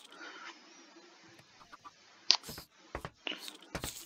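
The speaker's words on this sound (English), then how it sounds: "See, that chicken is just standing over there." A Minecraft chicken makes several short, scattered clucks and soft squawks in a quiet game scene, with faint clicks and small effects between them, fairly close and with no talking.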